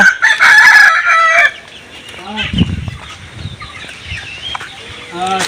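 Temple tail chickens crow loudly up close, then cluck and call in short bursts, with faint background noise between the calls.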